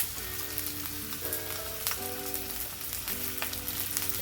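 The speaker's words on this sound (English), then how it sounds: "I'm going to give them a good press down to make sure that they got good contact with the surface of the pan, so we can get us a nice little sear on this" Chicken thighs searing in a pan, with a steady sizzle and occasional crackles and light pops, a low hum beneath, and no talking.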